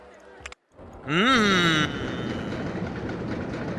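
Roller coaster train of three trains with seven cars each on a test run in the OpenRCT2 game: a brief loud burst with a rising and falling whine and clatter, then a steady rumbling rattle of cars rolling along the track.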